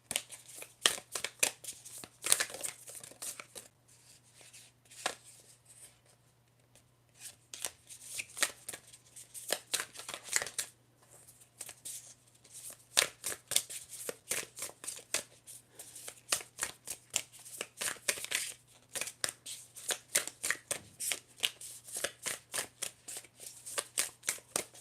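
Tarot cards are shuffled close up in a steady run of crisp riffling and slapping bursts, with a brief quieter lull partway through and a faint low hum underneath; no one speaks.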